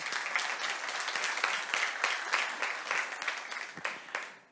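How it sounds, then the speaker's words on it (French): An audience at a Montreal startup showcase event applauds, a dense, steady wash of many hands clapping that holds for several seconds before tapering off toward the end. "On les applaudit tous."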